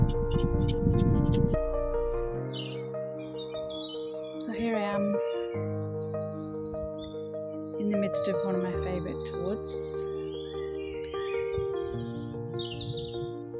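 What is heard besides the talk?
birds singing in spring woods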